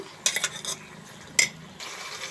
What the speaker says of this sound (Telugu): ఇవన్నీ శుభ్రంగా మగ్గేంత వరకు ఇలా వేయించాలన్నమాట